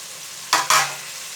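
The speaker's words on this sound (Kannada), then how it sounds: "ತರಕಾರಿ ಫ್ರೈ ಆಗಿದೆ. ಟೊಮೊಟೊ ಹಾಕೋಣ." Vegetables and soya chunks frying in a pan give a soft steady sizzle, broken by two sharp stirring scrapes close together as tomato goes in, then a fading hiss.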